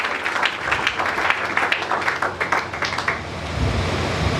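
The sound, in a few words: congregation applauding for Jesus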